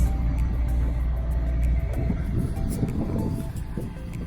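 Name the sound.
Mercedes-AMG E63S sedan engine revving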